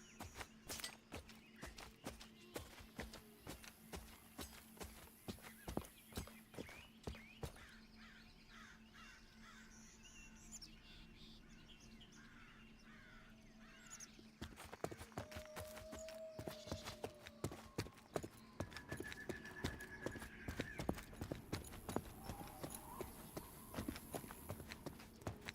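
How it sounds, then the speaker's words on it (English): Footsteps tap in a steady rhythm through an outdoor ambience in the fantasy video game Monsters & Memories, with crows cawing and faint wind and birds behind, briefly pausing mid-way before resuming. "crickets, birds, the wind blowing, footsteps. The sound design is phenomenal."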